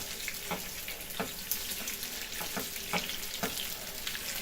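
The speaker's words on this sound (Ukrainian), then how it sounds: "Котлетки вже підсмажилися." Meat cutlets fry in a new Hascevher pan with a steady bright sizzle, close up, broken by a few soft taps and scrapes as they are turned.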